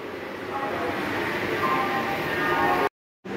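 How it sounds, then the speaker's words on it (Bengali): A local train from Mecheda toward Digha rumbles steadily from inside the moving compartment, a dense continuous roar with faint rattling, cut by a brief dropout near the end. "ট্রেনের কামরার ভিতরের অবস্থা।"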